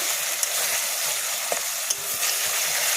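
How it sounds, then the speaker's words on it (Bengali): Masala spices being sautéed in oil for a soybean curry, a steady crackling sizzle with a few brief stirring clicks, close and fairly loud throughout. "বেশিক্ষণ লাগবে না কষাতে কারণ মশলাগুলো তো ভাজাই ছিল"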